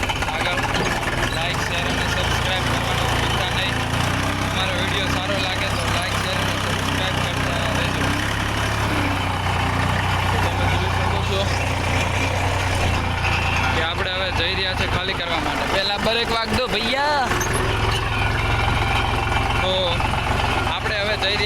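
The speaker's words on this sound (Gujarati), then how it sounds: "અને હવે આપણે મોટર ચાલુ કરવા જઈએ" A tractor engine idling close by, a loud steady low rumble that runs unbroken throughout, with a rougher rattling patch toward the end and voices talking over it.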